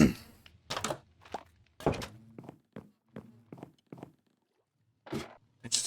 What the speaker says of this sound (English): I just heard my door open